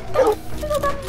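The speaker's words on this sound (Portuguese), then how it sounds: "E pra completar, os caras têm cachorro." Dogs in the video game Red Dead Online bark and yip in quick, fairly loud bursts, with a voice faintly present underneath.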